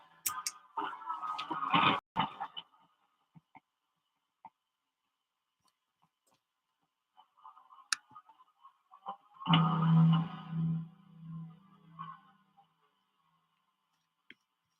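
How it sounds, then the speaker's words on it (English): Percussive guitar played through a clean echo effect, with scattered taps and strums, a short burst early, quiet gaps, then a fuller ringing strummed passage near the end, close and with no voices. "I'm going to put it through clean echo, see how it sounds there."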